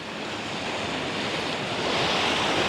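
Waves wash onto a quiet beach on the coast between Paraparaumu and Waikanae, New Zealand. The surf makes a continuous broadband rush that builds slightly, with some wind mixed in and no voices.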